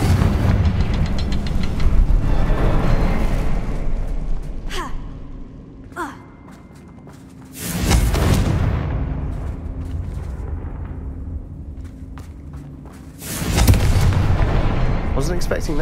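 A Confringo blasting curse explodes in Hogwarts Legacy: loud, booming blasts with roaring broadband bursts and decaying rumble, several heavy impacts spread over the stretch with a brief quieter lull between them.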